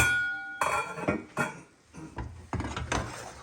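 A saucepan that held cooked liver and meat patties is picked up and set about, giving several sharp metallic clanks and clinks at uneven intervals, close and fairly quiet, with short pauses between knocks.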